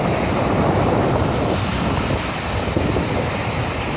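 Strong ocean surf pounding at Praia do Foguete beach, a dense continuous roar of breaking waves mixed with buffeting wind noise on the microphone, loud and close with no voices.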